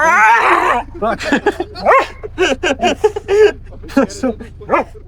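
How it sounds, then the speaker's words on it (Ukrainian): A dog yips and barks in short bursts, mixed with whimpering, while a person laughs and talks over it nearby. "навіть оцей собака був щасливий"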